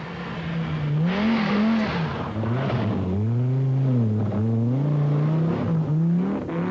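A 1986 British Open Rally Championship rally car races a forest stage, its engine loudly revving up and down through gear changes, close and dominant throughout.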